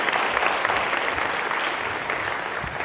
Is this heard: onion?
no